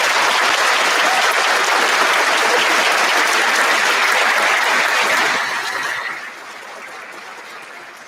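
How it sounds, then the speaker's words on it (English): An audience at a University of Washington chemical engineering graduation ceremony in 2023 bursts into sustained, dense applause that rolls on for several seconds, then thins and fades toward the end. "Let's have a big round of applause."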